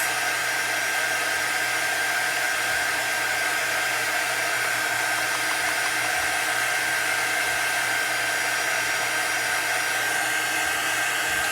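A heat tool runs continuously to dry watercolor painted on etched butterfly stencils, a steady loud blowing whir that holds even for the whole stretch with no voices.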